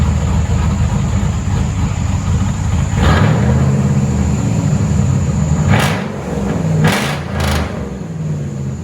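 Ram 2500 Power Wagon with a 6.4L HEMI V8 and straight-pipe true dual exhaust, a loud rumbling idle broken by several sharp rev blips in the second half.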